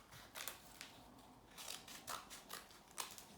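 Scissors snip through post-it notes to cut them into small squares, a series of crisp, close cuts at an uneven rhythm in a quiet room.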